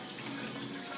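Tap water pours steadily from a faucet into a sink while hands and the tap are rinsed, a constant broadband rush with no talk.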